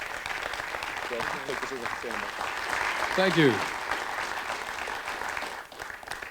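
An audience gives a guest a round of applause, a broad steady clapping that fills the space while someone speaks over it.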